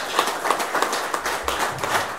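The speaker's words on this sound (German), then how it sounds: "Applaus" An audience applauds during a talk on the European Union, a sustained even patter of many hands clapping throughout, heard from a moderate distance.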